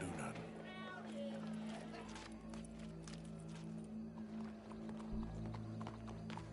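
Horse hooves clip-clopping in Red Dead Redemption 2 alongside a horse's whinny, at a moderate distance, layered under steady game ambience and talking voices.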